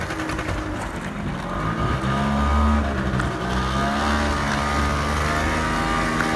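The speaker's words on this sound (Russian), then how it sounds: "А вот когда уже начинаешь трогаться, уже слышно, что звук выхлопа такой резкий," A Honda Lead 50 scooter pulls away with a sharp, ringing exhaust note, its small engine droning steadily and rising slightly in pitch, close and continuous without talk.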